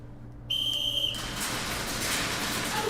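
A single steady referee whistle blast signals the start of a round at a speed QB open class regional airsoft championship. It lasts about half a second, then gives way to a wash of outdoor field noise.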